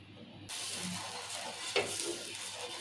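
Dosa batter stirred by hand in a bowl, a steady close scraping and swishing with a soft splash of thick batter partway through, no voices.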